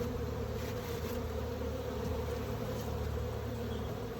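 Honeybees hum densely around a skep hive, a constant close, even buzz from many insects with occasional louder passes near the ear and no talking.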